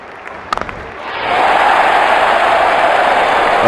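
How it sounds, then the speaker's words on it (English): Stadium crowd in the Real Cricket 19 video game roars after a six in a Bangladesh vs Pakistan match, a few sharp knocks first, then a loud, steady wall of cheering that swells and holds. "Crowd is going crazy."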